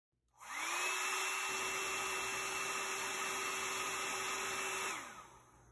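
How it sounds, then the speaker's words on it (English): A hair dryer heating a stuck CPU whirs steadily at a constant high pitch for about five seconds, starting up and then cutting off, with no talking. "we are going to begin by heating the CPU for about 5 minutes with the hairdryer"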